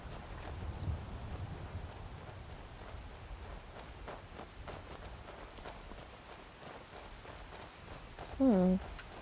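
Steady rain patters throughout in the video game Skyrim, a soft wash of drops with a brief tonal blip near the end.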